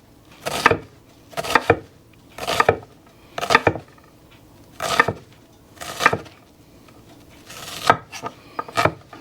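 Knife slicing through a vegetable on a wooden cutting board while making home-style chili, about nine crisp, evenly spaced chopping strokes, close and distinct, with short quiet gaps between cuts.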